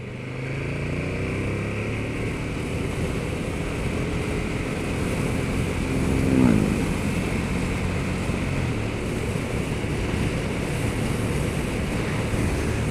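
A 2020 KTM 1290 Super Duke GT motorcycle pulling away in third gear, heard as a steady, loud engine drone mixed with heavy wind rush, with a brief rising swell partway through.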